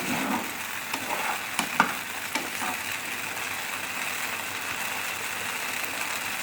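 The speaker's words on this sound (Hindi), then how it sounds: "हम इस सॉस के अंदर इसको मिक्स कर देंगे। सॉस के अंदर सारी वेजिटेबल्स को और चिकन को" Chicken and vegetables stirred into a white sauce in a pan for creamy chicken macaroni, a steady scraping, sizzling hiss with a few louder spoon knocks early on, no talking.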